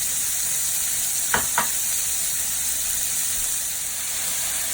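About one and a half large onions frying in fat rendered from oxtail, a steady close sizzle and hiss throughout, with two brief scraping stirs near the start.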